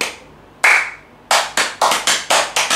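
Loud, sharp hand claps ring out close by: one isolated clap, a pause, then a quick run of about eight claps in an uneven rhythm, with no talk.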